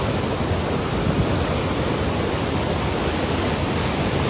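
A fast river flows over stones on a flood-damaged mountain track. The rushing is loud, close and unbroken, a dense continuous roar with no voices.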